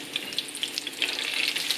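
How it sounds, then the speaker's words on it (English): Close, busy sizzling and crackling of salmon fish cakes frying in hot oil, a steady bed of fine spitting pops with no talking. "place the fish cakes in and just let them sizzle"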